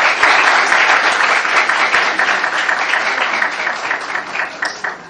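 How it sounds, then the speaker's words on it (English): Sustained audience applause at a trainee course closing ceremony in Quetta, steady and dense throughout with individual claps audible, then gradually thinning toward the end. "Huge round of applause for them."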